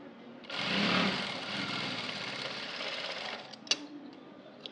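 A sewing machine stitches the edge of a blouse neck in a steady, close whirring run of about three seconds, followed by a few sharp clicks as it stops.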